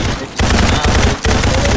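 Rapid gunfire bursts from an online shooter video game, loud and close, with short pauses between volleys.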